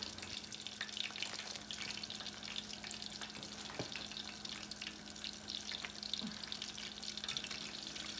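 Frozen tempura-style General Tso's chicken crackles in hot oil with a dense, steady sizzle, close and moderately loud, with occasional soft stirring knocks and no talking.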